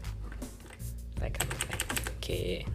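Rapid clicky keystrokes from an HP GK400F mechanical keyboard with blue switches, a dense run of sharp close-up clicks after a quieter start, with a voice speaking underneath.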